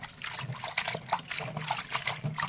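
Leafy greens are washed by hand in a basin of water, with continuous close sloshing, trickling and light splashing that rises and falls in quick, uneven bursts.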